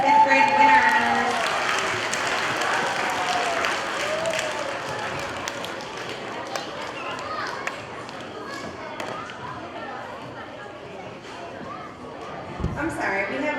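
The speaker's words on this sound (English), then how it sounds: "Let's have a round of applause for our fourth and fifth grade winners." Applause from a school assembly crowd for fourth and fifth grade winners, with children and adults clapping over a noisy, reverberant hall full of chatter and shuffling, continuing at moderate loudness throughout.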